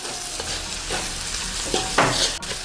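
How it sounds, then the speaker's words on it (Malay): Fried instant noodles with biscuit pieces being stirred in a pan, with a steady sizzle under repeated scraping strokes of the utensil, close and moderately loud. "Okey, kacau."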